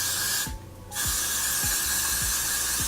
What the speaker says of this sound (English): I'm going to be using my Got to Be Glued freezing spray.